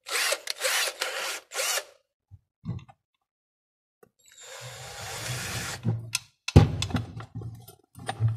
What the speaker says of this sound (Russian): Сверлим сверлом на 5.